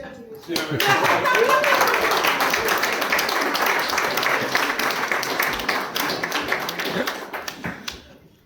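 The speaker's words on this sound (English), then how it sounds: "Round of applause." Audience applause at a centenary poetry reading for a polo club in Richmond, a dense patter of clapping that swells quickly, holds steady for several seconds, then fades out.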